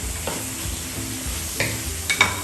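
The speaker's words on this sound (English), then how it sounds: "So just give it a good stir" A spoon stirs spinach in tomato sauce with fish and kpomo in a sizzling pot, giving soft, repeated scraping strokes over a constant frying hiss, with a few louder clanks toward the end.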